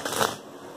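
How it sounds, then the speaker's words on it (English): Tarot cards being shuffled by hand, a brief, close papery riffle that fades quickly into quiet. "Bonus shuffle for Scorpio."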